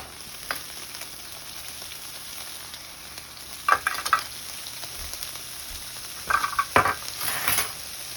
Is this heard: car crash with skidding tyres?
no